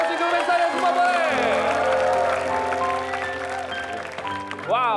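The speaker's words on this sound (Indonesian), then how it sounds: "Tepuk tangan sekali lagi" Studio audience applause on the Indonesian dating show Take Me Out Indo, broad clapping and some cheering blended under loud music with sustained tones and a rising voice-like swoop at the end.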